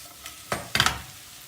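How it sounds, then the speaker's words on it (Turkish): Zucchini frying in a pan is stirred, making two or three quick, close scraping swishes over a soft sizzle, with no talk. "Tuzunu attıktan sonra tekrar bir daha karıştıralım."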